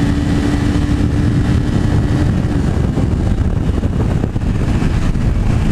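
Pulsar 220F motorcycle running flat out near top speed, a dense, constant engine roar blended with heavy wind buffeting across the microphone, loud and unbroken throughout.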